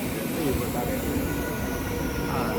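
A train pulls into a station with a loud, steady rumbling roar that fills the background while people talk over it.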